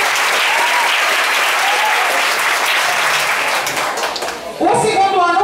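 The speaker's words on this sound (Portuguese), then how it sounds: "Palmas para o Oeste da Noite." Loud, dense applause from a school audience at a quiz and cultural battle event fills most of the stretch, then thins abruptly near the end as a voice starts talking over the remaining claps.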